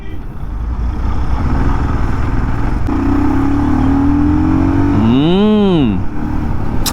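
A 2025 Triumph Scram 440 motorcycle engine drones steadily at speed in sixth gear with strong wind rumble, then a rising and falling horn-like wail sweeps past near the end.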